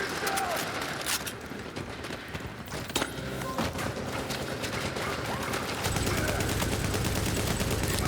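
Rapid gunfire crackles through a Division 2 firefight, a dense run of close shots and bursts with sharp impacts layered over constant loud combat noise, ending in heavier sustained fire.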